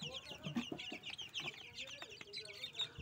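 Native country chickens, a mixed flock of black, grey and reddish-brown birds around two months old, cluck and chirp repeatedly at close range with overlapping calls and no talk.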